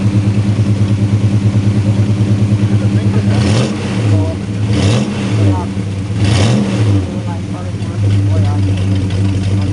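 A Pontiac Catalina 2+2 with a 421 HO tri-power V8 and a McKellar 068 cam idles with a lumpy, pulsing rhythm, then revs up loudly three times and settles back, close by, with people talking over it.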